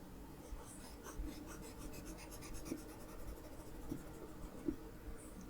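A stylus draws across a One by Wacom pen tablet, giving a soft, close scratchy glide with a few light taps, quiet and steady, with no voices.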